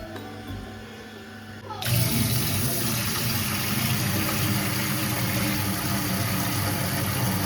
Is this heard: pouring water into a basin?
yes